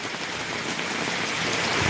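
Rain pouring down in a Punjab village, a dense, steady hiss of drops on surfaces, fairly close and continuous, with no voices.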